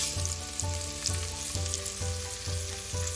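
Spices, turmeric and Kashmiri red chili powder, sizzling in hot oil in a frying pan, a steady close hiss overlaid by a regular low rhythmic hum, no voices.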